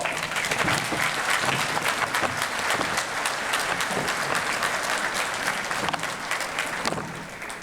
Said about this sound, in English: Let's give my brother a thunderous round of applause.